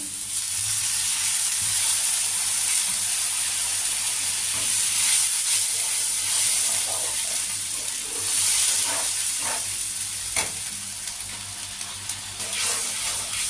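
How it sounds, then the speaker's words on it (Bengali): Water poured into hot fried spice masala for an amudi fish curry sets off a loud, steady sizzle and steamy hiss that continues for about thirteen seconds, with no talking. "মশলা একদম রেডি হয়ে গেছে তেল ছেড়ে দিয়েছে এবার আমি জল দিয়ে দেবো পরিমাণ মতো"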